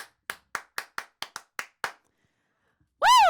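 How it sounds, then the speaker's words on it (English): Eight sharp hand claps in a quick, slightly uneven rhythm, close and clear, then a pause before a loud shout. "I'm going to clap again because it feels really good"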